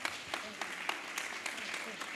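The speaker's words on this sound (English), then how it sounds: "Please, a round of applause for him." A crowd at a World Ozone Day anniversary event gives a short round of applause for an invited guest, soft and somewhat distant, with individual claps rising out of low background murmur.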